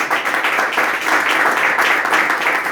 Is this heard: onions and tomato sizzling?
no